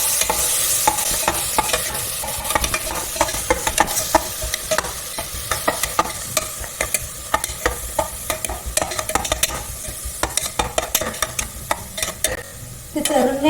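Onions and spices for mutton curry fry in a pan and are stirred constantly, a dense run of quick scraping strokes over a steady loud sizzle, close up and with no voices.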